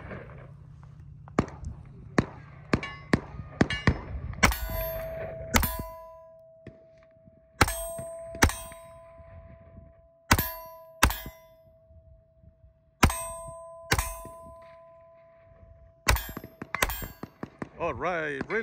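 Pistol shots from a Browning Buck Mark at an outdoor range, each sharp crack followed by a ringing metallic clang from steel targets, fired in quick strings with pauses between, plus a few faint voices.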